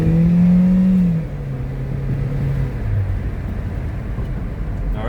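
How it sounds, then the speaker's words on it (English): A 2014 Hyundai Sonata, Korean spec, just fitted with a new crankshaft position sensor, accelerates under load, its engine rising in a loud steady hum, then easing into a lower drone as it shifts smoothly. "we're going to give it some gas and we're going to test it under load"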